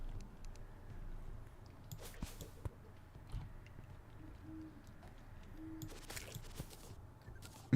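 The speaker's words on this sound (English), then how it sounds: "Listen to those owls." Owls hooting in the Terraria video game, soft repeated low calls over a quiet ambient game backdrop with occasional faint clicks and effects, no talking.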